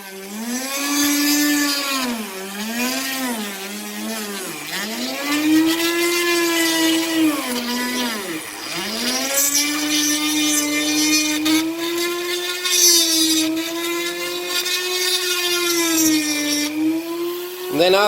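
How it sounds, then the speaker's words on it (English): Power drill boring into olive bonsai wood, a steady high whine with rising and falling pitch as the bit speeds and slows, close and continuous throughout. "Just drill in."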